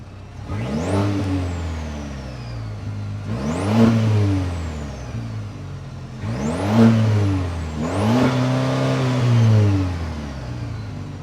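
A 2024 Chevy Colorado ZR2's 2.7-liter turbocharged 4-cylinder engine revs up four times in sweeping rises and falls, throaty and close, with no talking.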